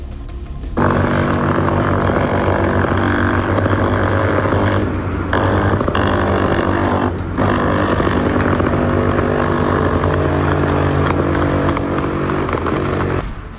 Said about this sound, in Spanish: El helicóptero artillado Black Hawk, desde donde los soldados dispararon un arma conocida como Dillon Aéreo Minigun.